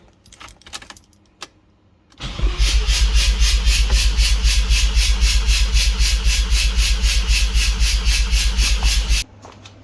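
A 1992 Mazda RX-7 FD3S Efini rotary engine cranking on the starter with the throttle floored during a compression test, a loud, even, rapid chugging pulse lasting about seven seconds after a few faint clicks, then stopping abruptly.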